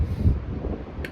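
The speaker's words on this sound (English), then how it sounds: "it's hella windy right here right now" Strong outdoor wind gusting against a microphone as a rumbling low roar, with a brief brighter hiss near the end.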